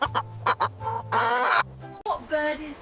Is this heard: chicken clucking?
yes